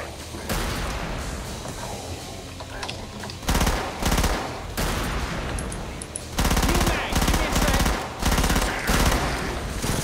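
In the Killing Floor video game, a chain gun fires in loud, rapid sustained bursts, several long volleys separated by brief pauses, with the shooting dominating throughout.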